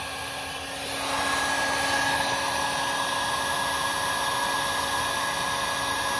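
An electric heat gun switches up to a steady, loud blowing whine with a constant fan roar and a high tonal hum, used to shrink tubing over a wire connection when wiring power mirrors in a Nissan Hardbody D21 truck.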